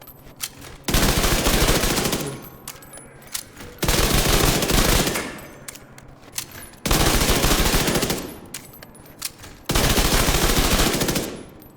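Submachine gun fire from a converted SMG in The Division 2 shooter game, coming in four long, loud sustained bursts separated by short pauses, with no talking.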